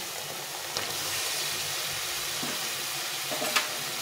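Fried pointed gourd goes into a sizzling spice mix in a pan, giving a soft, steady frying hiss with a couple of brief stirring clatters, fairly quiet throughout.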